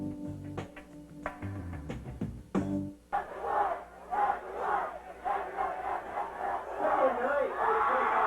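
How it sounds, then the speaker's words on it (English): Redbird football fans cheering at a 2004 West De Pere vs De Pere high school game, a broad crowd roar building and holding steady, following a few seconds of music and talk. "Redbird fans cheering"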